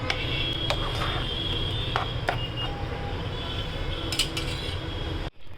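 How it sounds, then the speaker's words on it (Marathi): A spoon stirs tomato pickle in a pan after salt goes in, giving intermittent light clinks and scrapes over a steady sizzling hiss. "आता आपण मीठ टाकूया, परतून घेऊया."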